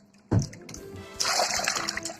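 Water poured and splashing into a basin for washing a soft collectible toy, a sudden close splash followed by continuous running and gurgling water.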